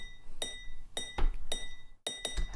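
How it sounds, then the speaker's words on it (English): A wine glass struck with a finger ring gives bright, ringing clinks arranged into a repeating rhythm, with several evenly spaced hits, close and clear. "I recorded a wine glass, literal wine glass in my house, with just playing it with my ring on my finger"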